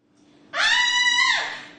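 A single high-pitched scream from a woman in a women's restroom, starting abruptly after brief quiet and holding for over a second before trailing off.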